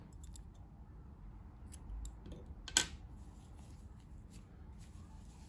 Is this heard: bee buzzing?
no